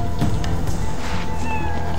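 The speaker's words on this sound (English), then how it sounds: "Was that just a cat? What the hell is a cat doing here?" A cat meows in the video game Muramasa: The Demon Blade, a short call set against steady game music and ambience.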